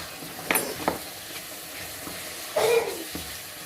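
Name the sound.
bakes frying in oil while oil is spooned over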